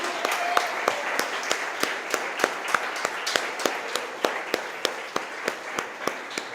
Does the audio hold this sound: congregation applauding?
yes